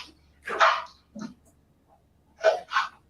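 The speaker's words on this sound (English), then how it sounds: "I got a dog." A dog barks in short, sharp bursts, about four barks with pauses between them, fairly close and alone against a quiet background.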